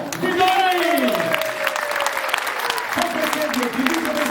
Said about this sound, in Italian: Il prossimo applauso è un applauso speciale